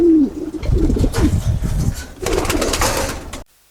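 Pigeons kept in a Dhaka loft cooing up close, several soft throaty coos in a row amid light rustling and movement before the sound abruptly stops.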